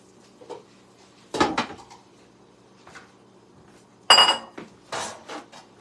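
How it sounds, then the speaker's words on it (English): A metal lid goes onto a pan of pan-seared Mediterranean salmon with a few sharp clanks and clinks, separated by quiet gaps and softer handling knocks. "I'm going to put the cover on it to help the cooking as well"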